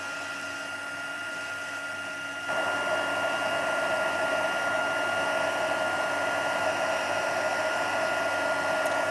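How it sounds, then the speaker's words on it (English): A craft heat tool blows hot air over embossing powder with a steady, close whirring rush that steps up louder after a couple of seconds and runs on evenly, with no talking. "I'm just going to hit it with the heat tool."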